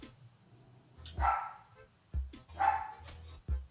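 A dog barks several times in separate bursts, a couple of short yips followed by louder barks, fairly close in an indoor room with no talking over them.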